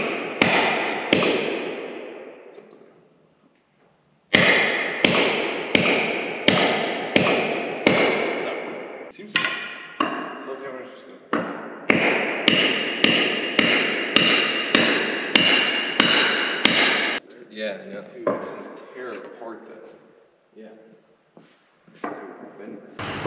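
Repeated sharp metallic taps from a hammer on a part of a hydraulic cylinder being rebuilt, a quick close series of strikes with short pauses between bursts, some blows softer than others.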